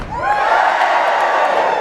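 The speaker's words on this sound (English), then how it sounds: "Let me hear you cheer." A concert audience at a comedic tenor show roars with cheering and whoops, a loud, sustained crowd shout swelling quickly and holding for nearly two seconds.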